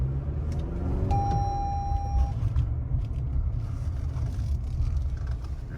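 A 2020 Toyota RAV4 XLE Premium AWD moves slowly, giving a steady low rumble and faint whir from close by with no voices, while a brief tonal hum sits over it near the start.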